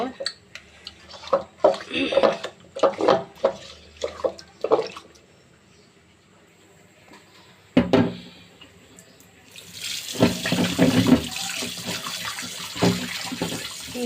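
Rohu fish being washed under running water in a kitchen, with splashing and clinking of a pot, bursts of handling early on and then a steady gush of tap water.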